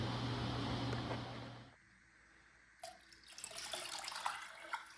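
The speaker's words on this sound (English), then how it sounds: "Next up, we'll add 4 liters of water, or 1 gallon" Water poured from a container into a pot to make a turkey brine, a steady loud splashing stream that stops abruptly, then quieter trickles and splashes as the last of the water goes in.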